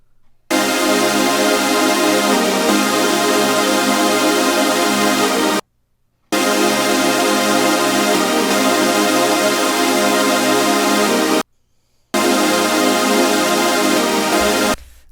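Three-layer synth chords made with the Alchemy synthesizer sound in long, dense, bright sustained blocks, each several seconds long and broken by brief silences, full and loud with no voices.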